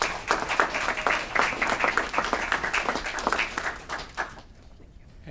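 Attendees at a city council committee meeting in Aurora clap in a moderately sized room, steady overlapping applause that tapers off into silence near the end.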